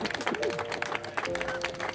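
An audience bursts into clapping, a dense patter of many hands close by, with some voices mixed into the applause.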